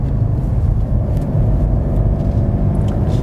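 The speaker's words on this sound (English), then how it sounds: "See how the shifting reacts there." A 2018 BMW M5 F90 sedan pulls hard from inside the cabin, its engine droning loud and steady as it accelerates and shifts gears, with road rumble underneath and no talking.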